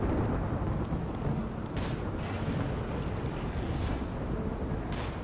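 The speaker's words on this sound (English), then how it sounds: "That's okay, it's raining." Steady rain and rumbling thunder from a storm in the Rimworld video game, a continuous loud wash of rainfall with thunder swells throughout and no talking.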